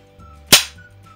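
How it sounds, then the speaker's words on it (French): A paper party popper bursts with one sharp, loud crack that fades quickly into a quiet room. "je vais éclater ce pétard avec vous"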